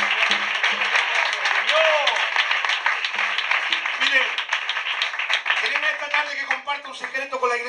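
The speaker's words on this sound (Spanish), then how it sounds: "Dale un aplauso a Dios con gozo y alegría." A church congregation claps during a service in Vilanova, sustained busy applause under a loud voice speaking over it throughout, with brief musical tones mixed in.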